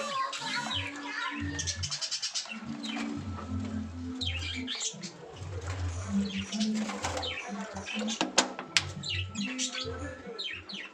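Doves feeding as a group in an aviary, with soft repeated low cooing and scattered chirps and tweets from other birds, continuous and fairly close throughout.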